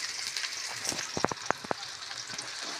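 Cumin seeds and finely chopped onion frying in hot oil for a Tamil-style ivy gourd (kovakkai) gravy, a steady close sizzle with a few sharp crackles and pops in the middle.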